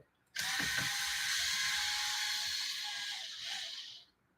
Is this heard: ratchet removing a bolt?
yes